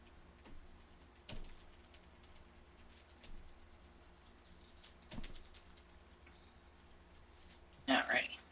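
Sticker dots rubbed on their backing sheet during card making, a faint, soft scuffing with light ticks over a quiet room, ending in a brief louder rustle.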